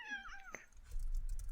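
A house cat gives one clear, close meow with a falling pitch, followed by a soft rustling thump.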